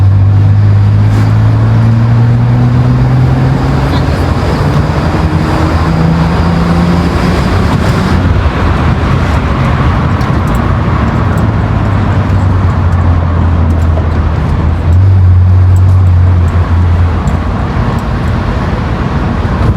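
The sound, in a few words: 2009 BMW 330i driving, engine and exhaust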